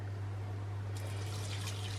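Vegetable stock is poured from a pint jug into a blender for honey roast parsnip soup, heard as a faint, steady liquid trickle. The pour grows a little brighter in its second half, with a low electrical hum throughout.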